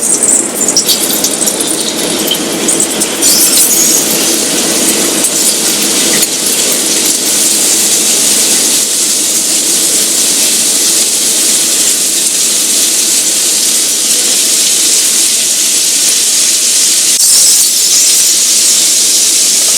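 Beef browns in a very hot pan with an intense, loud, continuous sizzle and hiss, close up and steady throughout, with no talk.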